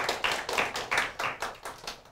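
A classroom audience claps with roughly nine sharp, evenly spaced claps over about two seconds, loud and near with no talk.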